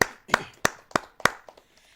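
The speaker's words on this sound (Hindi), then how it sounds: "आप सबकी जोरदार तालियों के माध्यम से" Sharp, distinct hand claps at a Hindi poetry recital (kavi sammelan), five strong claps in a regular beat that then trail off into softer, fading ones, close and clear.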